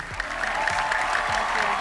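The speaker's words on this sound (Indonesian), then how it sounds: "Berikan tepuk tangan untuk Ibu Dini Putri." Applause at a Persija Jakarta event at Jakarta International Stadium, a dense wash of clapping from a crowd, steady and moderately loud with faint low thuds underneath.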